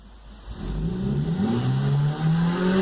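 Chevrolet Corsa 1.0 flex engine revved hard, climbing in pitch and then straining and bogging as it holds around high rpm, loud and close with a steady drone and no talking.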